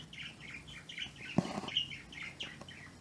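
Parakeets chirp repeatedly in quick, high bursts while a brief flurry of fluttering wings rises in the middle, lively and fairly close.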